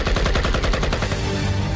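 Loud, rapid automatic gunfire rattles in quick successive bursts for about a second, then blurs into a dense, sustained roar of shots and echo, with no voices.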